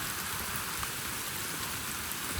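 Steady, heavy rain hisses evenly throughout, a dense wash of drops with no pauses or other sounds.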